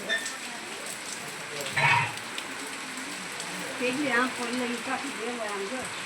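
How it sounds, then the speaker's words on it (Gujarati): Rain falls steadily on a village surface throughout, a soft continuous patter with a couple of brief louder bursts, while people talk over it at close range. "આ તો વરસાદ આવી ગયો"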